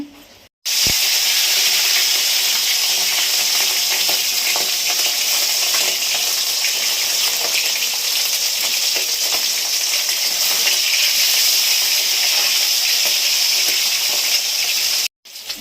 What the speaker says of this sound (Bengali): আমার ট্যাংরা মাছ ভাজা হয়ে গেছে, তুলে নিলাম।